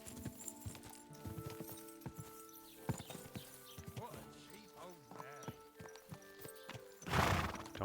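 Horse hooves clip-clop steadily and a horse whinnies while riding in the medieval video game Kingdom Come: Deliverance II, with game music and sound effects around it and a burst of noise near the end.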